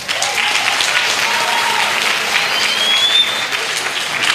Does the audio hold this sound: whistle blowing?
no